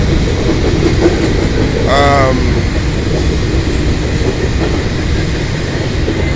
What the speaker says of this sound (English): Been seeing train after train.